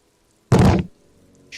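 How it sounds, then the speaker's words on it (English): A single heavy impact of a barred wooden door being kicked in Disco Elysium, one loud close thud with a short decaying rattle after, otherwise near silence. "Kick the door in."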